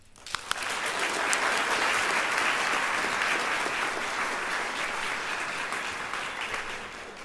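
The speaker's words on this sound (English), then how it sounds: "Please give a round of applause for Marla." An audience at a nursing pinning ceremony breaks into sustained, dense applause for a graduate, loud and even for several seconds and tapering slightly at the end.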